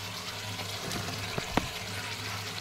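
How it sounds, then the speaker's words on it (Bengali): Fried potatoes tipped into a pan of sizzling braised meat, giving a steady close frying hiss with a couple of brief clatters and a sharp burst as they land, no voices. "এবার আমি এর মধ্যে দিয়ে দেবো আলু, ভেজে রাখা আলুগুলো"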